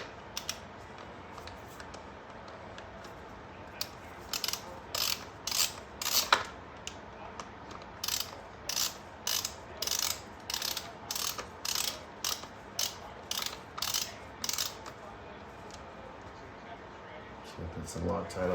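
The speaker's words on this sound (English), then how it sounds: "we can put it right at 10 foot-pounds. That's technically the lowest this wrench will go. And let's see if we can torque it down there" Torque wrench tightening primary chain case bolts on a 2008 Harley-Davidson CVO Electra Glide, a quick series of close, crisp ratcheting bursts in an even rhythm, with someone speaking briefly near the end.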